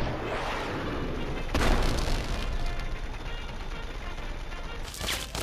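Missile launcher fire aimed at a sentry bot in Fallout 3: a steady, loud mechanical clatter with ratcheting, creaking and gear-like sounds, and a heavier booming burst near the middle plus a smaller one near the end.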